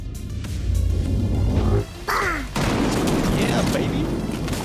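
A .50 BMG signature weapon fires in The Division 2, a heavy loud boom over constant battle noise and rumble, with a brief gap and whooshing debris after the shot.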